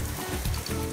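Beef tongue sizzling on a grill at a Hokkaido restaurant, a steady close crackling hiss with low rumbling underneath, heard alone without talk.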